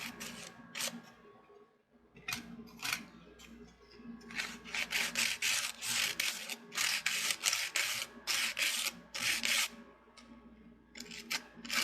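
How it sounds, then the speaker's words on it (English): Sandpaper rubs over the cut edge of a plastic CD in short back-and-forth strokes, close and fairly quiet, with brief pauses between bursts of scratchy rasping. "Just anywhere that you cut, you're just going to want to sand it just a little bit."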